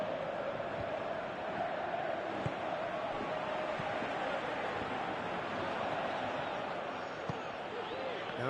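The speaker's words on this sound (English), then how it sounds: "you can hear how the crowd are reacting to this too" Stadium crowd noise from the football video game PES 2018, a steady, dense roar of many voices holding at a constant level throughout, with faint thuds and swells rising in the background.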